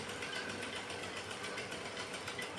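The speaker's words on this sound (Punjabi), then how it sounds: "ਹੁਣ ਮੈਂ ਲੱਗ ਪਈ ਆ ਜੀ ਸੂਟ ਦੀ ਸਿਲਾਈ ਕਰਨ" A sewing machine runs continuously while stitching a cut fabric suit, a steady, fairly faint mechanical whir with a fast, even stitching pulse and no talking.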